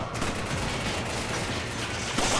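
Continuous gunfire from a shooter video game, dense and loud throughout with a sharper burst near the end, mixed with faint voice.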